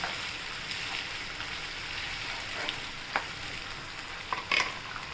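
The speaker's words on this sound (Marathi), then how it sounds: "आपण हा टोमॅटो चिरले ते टाकूया आणि परतून घेऊया" Chopped tomatoes sautéing in a pan for tomato rice, a soft steady sizzle with a few light scrapes and taps of a spoon stirring near the end.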